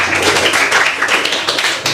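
A class of students applauding, a steady rapid patter of many hands clapping at once, loud and close, holding evenly for about two seconds without any voices on top.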